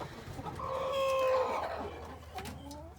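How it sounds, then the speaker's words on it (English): Chickens cluck and give a drawn-out crowing call nearby at the roost, the sounds soft and overlapping in a quiet coop on a cold evening. "Got all the chickens coming up to the roosts."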